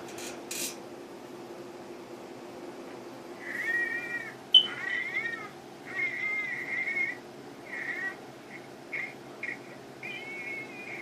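A reborn doll's built-in crying mechanism sounds off in a quiet room, giving a series of short, thin, wavering electronic cries in irregular bursts, faint and close with no talking.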